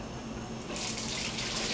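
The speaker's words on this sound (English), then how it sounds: "Rinse it out." Tap water runs steadily into a sink while a hydrometer flask, a graduated cylinder used for home brewing a Cooper's Draught beer kit, is rinsed out, a close continuous splashing hiss that grows fuller after the first moment.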